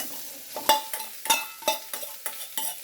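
Chopped onion fries in a pan for tuna masala while a spatula stirs it, making a rhythmic series of scraping strokes about every third of a second over a light sizzle.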